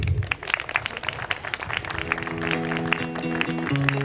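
Applause from an audience at a business management event on stage, sustained clapping throughout with music building beneath it toward the end.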